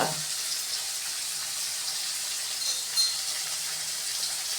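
Chopped tomatoes sautéing in a pan for chow chow kootu give off a continuous, even frying hiss at close range, with no talking.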